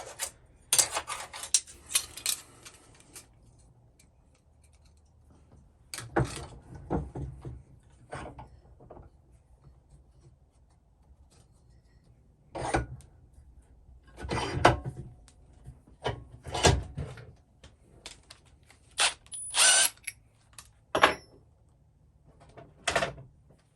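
A Unibit step drill bit cuts through metal in irregular bursts of grinding, scraping and clattering, separated by quiet gaps, close by with no talking.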